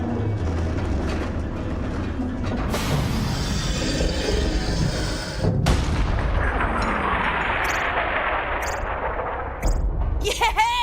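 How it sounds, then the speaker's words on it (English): Big cannon firing in the video game Borderlands 3: a loud booming blast rises out of continuous game noise and rumble midway, followed by a rushing roar and a sharp burst at the end, with speech-like voice sounds throughout. "Load up the cannon so we can savor the sweet taste of vengeance."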